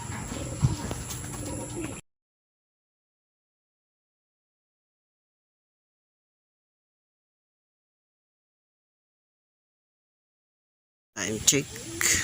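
Racing pigeons coo in a loft, soft and fairly close, with brief bursts at the start and end separated by a long silent gap, faint background noise and possible voices.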